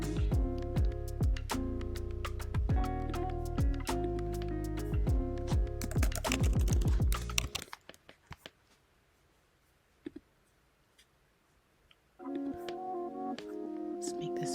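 Typing on a computer keyboard while writing text into a Canva planner design, dense rapid clicking bursts, close and fairly loud, pausing into near silence midway before resuming.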